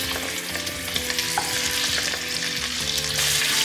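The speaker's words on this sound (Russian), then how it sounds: "Курица на сливочном масле быстрее даст корочку. Нам это надо. Выкладываем куриную голень." Chicken drumsticks frying in butter in a pan, a steady close sizzle and crackle with frequent small pops and some stirring clatter, no voices.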